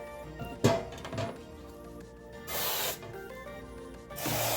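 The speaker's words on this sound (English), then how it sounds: "on the air fryer, I like to spray this with the avocado oil" Two hissing bursts of avocado oil spray into an air fryer, a couple of seconds each, after a sharp knock, with faint background noise between them.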